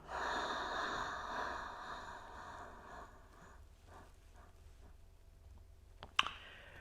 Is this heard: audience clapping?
no